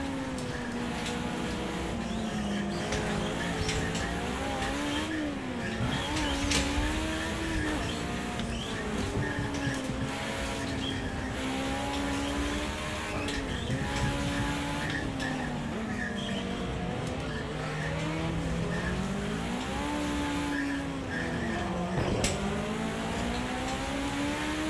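Race cars in Project Cars 2 roar steadily from behind the player's car, engines droning and shifting pitch continuously through throttle changes and gear shifts, loud and unbroken with no talk.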